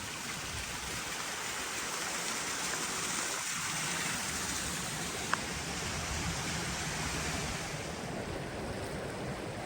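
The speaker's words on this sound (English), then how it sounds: "We're trying to get out of this river." Broad, steady rushing of a fast river, heard up close and loud from within the water while hikers try to wade out, an even wash of noise throughout with no voices.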